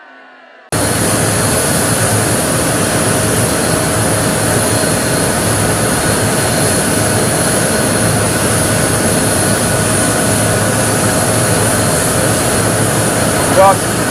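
Steady, loud roar of an airliner's jet engines, heard close up at the plane before boarding. The broadband rush runs continuously for the whole stretch with no voices over it.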